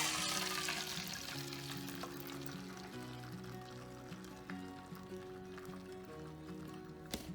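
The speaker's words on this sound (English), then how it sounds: "Time to make an omelet." Leftover pork and eggs for an omelet sizzle steadily in a hot pan, a continuous fry that stays fairly loud throughout, with a melodic background tune playing underneath.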